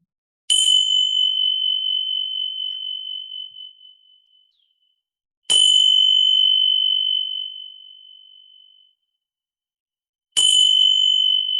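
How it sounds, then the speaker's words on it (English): A bell rings clearly three times, each strike leaving a pure, long-sustaining tone that slowly fades before the next. "listen to the magic listening bells and how they feel in your body"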